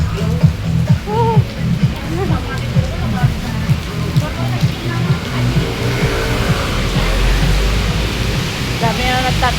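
Heavy rain pours in a dense, constant hiss with a deep low rumble. It stays loud and steady throughout, with faint voices and scattered splashy sounds mixed in.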